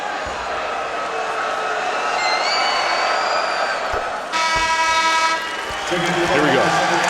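Basketball arena crowd at an Ohio State versus Michigan college men's game, cheering loudly and steadily for Xavier Simpson, with a sustained roar, a brief dip, then a swell of noise and tonal horn-like blasts near the end.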